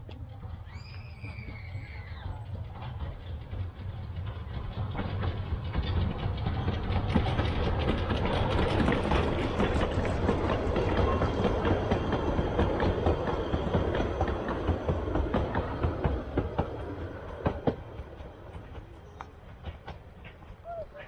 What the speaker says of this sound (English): So this is the train that takes you to the Slate Museum.